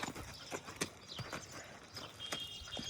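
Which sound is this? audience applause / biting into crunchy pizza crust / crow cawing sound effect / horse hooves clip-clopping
horse hooves clip-clopping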